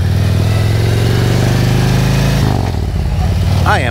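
A heavily modified stage two motorcycle engine runs steadily and loud while riding, with a deep continuous rumble that shifts pitch briefly near the end, as if changing gear.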